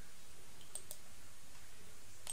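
Computer mouse right-clicks: a few faint, crisp clicks land at intervals over a quiet room background, with no talking.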